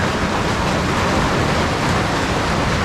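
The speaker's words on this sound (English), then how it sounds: "There is water rushing down through there." Water rushes down through an underground drain chute in a dense, steady broadband roar that fills the whole clip, loud and close, with no voices.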